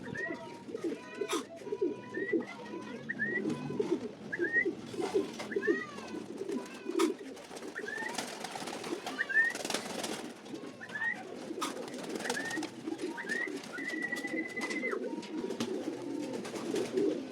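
Breeder pigeons in a loft coo repeatedly in overlapping low rolling calls during feeding, with sharper chirps and scattered clatter mixed in, close and fairly busy throughout.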